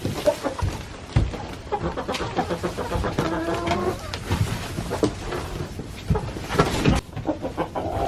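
Buff Orpington chickens cluck and squawk excitedly nearby in their coop area, overlapping bursts of calls throughout, mixed with rustling and clattering sounds.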